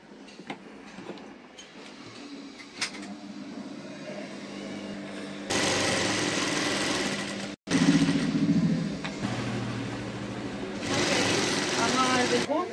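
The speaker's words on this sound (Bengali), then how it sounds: "এটাকে সেলাই দেবো।" A sewing machine runs in bursts while stitching a kurti suit, its loud motor whir starting and stopping with brief pauses between runs, and a voice speaks faintly in the quieter stretches.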